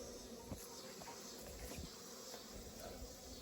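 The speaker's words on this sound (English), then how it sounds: "There's more bees than I thought there were." Feral honeybees from a hive taken out of a hollow tree buzz steadily, a faint, continuous insect drone that holds throughout without any voices.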